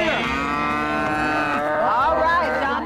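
Cattle on a farm moo in a long, loud, drawn-out call that bends in pitch near the end, close by, with faint background noise.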